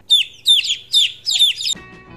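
Four rapid bursts of shrill, close bird chirping ring out near a nest in an even pattern, then give way to a brief low humming tone.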